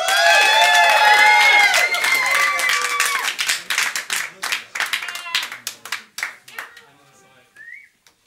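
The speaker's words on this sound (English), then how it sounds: "thunderous applause if you would for Cloud Day." Studio audience at Maida Vale breaking into loud whistling and cheering, then thinning into scattered claps that fade to silence over several seconds.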